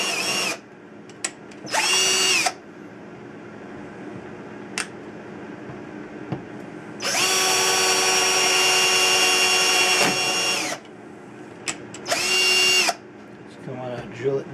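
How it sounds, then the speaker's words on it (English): A power drill bores holes through a Tesla coil flange in separate bursts: two short whirs, a long steady run of several seconds, then another short burst, with quiet gaps between and some faint talk. "I want to drill it down at each corner here."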